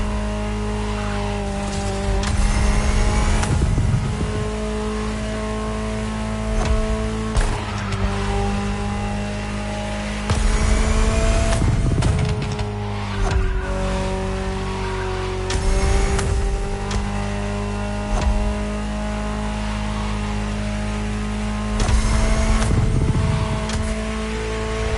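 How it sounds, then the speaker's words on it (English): A Ferrari supercar in The Crew Motorfest drives hard, its engine droning steadily with repeated rising revs and gear changes, punctuated by tire squeals, alone without talk. "Just listen to the car you're driving"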